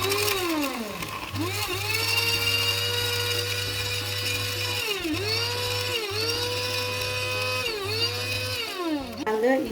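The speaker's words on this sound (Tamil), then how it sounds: "இப்போ இஞ்சி உள்ளியை அரைக்க போகிறேன்." A blender grinds ginger and garlic in a steady, loud whirring drone with pitch dips as the motor bogs and recovers several times, running continuously throughout.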